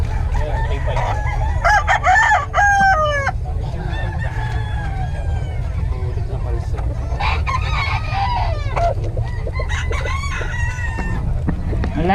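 Boston Banded gamefowl rooster crowing loudly and close, several full crows in sequence with clucking and other birds calling around it over a constant low background rumble.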